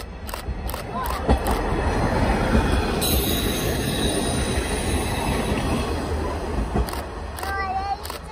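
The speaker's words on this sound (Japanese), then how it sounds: "まもなく2番線に下り列車が参ります。" A KiHa 48 diesel railcar train rolls into a station platform on the JR Ban'etsu West Line, its wheels squealing in high, sustained tones over a low rumble, while people talk nearby.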